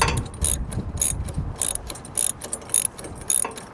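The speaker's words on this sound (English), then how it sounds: "I'll come back with a wrench and a socket to tighten it down." Rapid ratchet wrench clicks as a socket tightens a bolt and nut through a washer on a trailer jack crank handle, coming in short bursts with brief pauses between strokes, close and clear.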